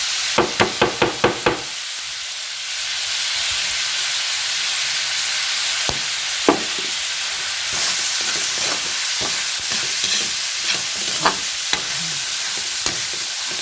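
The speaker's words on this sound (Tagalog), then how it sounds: "Sangkutahin yung maigi yung giniling para medyo tostado siya." Ground meat stirred and sautéed in a pan for sopas, a steady sizzle throughout with a quick run of scraping utensil clacks at the start and scattered stirring knocks later.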